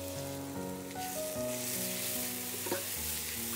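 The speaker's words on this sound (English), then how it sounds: "Fry until fragrant, and the garlic is slightly golden." Garlic and red chilies frying in vegetable oil over medium-high heat, a dense, even sizzle with light stirring under soft background music.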